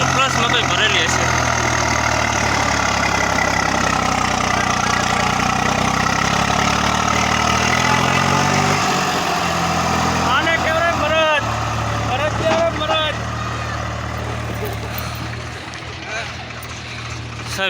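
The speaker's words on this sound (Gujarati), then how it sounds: "આ ટ્રેક્ટર છે સૌરાજ 735." A Swaraj 735 tractor engine labors steadily while pulling a trolley loaded with maize, a loud continuous diesel drone close by that eases toward the end, with someone talking over it.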